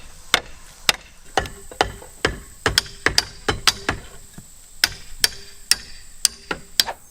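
Sharp metallic hammer blows on a rusted brake drum of an abandoned muscle car ring out one after another in an uneven rhythm, loud and close, about twenty strikes with short pauses between.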